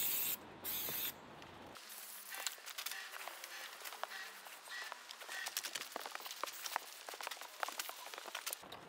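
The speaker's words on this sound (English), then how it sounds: "basically just going to spray down the whole top" Aerosol WD-40 Specialist corrosion inhibitor hisses onto a crusty table saw top in short close bursts, followed by a run of faint clicks and taps of the can and metal surface.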